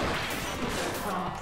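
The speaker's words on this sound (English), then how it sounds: "By smashing a pinball into its face." A pinball smashes hard into a mountain lion's iron-masked face in the pinball video game Demon's Tilt, a dense, loud crashing impact with a whooshing tail filling the short moment.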